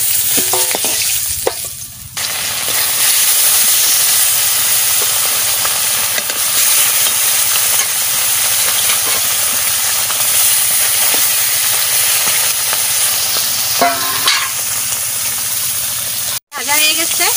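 Pieces of fish fry in a pan of hot oil until reddish, a loud, constant close-up sizzle and hiss running throughout, broken briefly by a couple of clatters and a short gap near the end.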